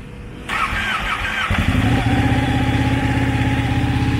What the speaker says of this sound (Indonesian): Ini bunyi Ducati Panigale 899.